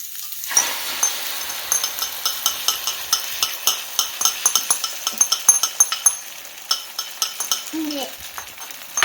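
Rapid, steady clinking of a utensil whisking egg in a bowl, a child doing the mixing in a home kitchen while making breakfast, close and continuous with faint background noise.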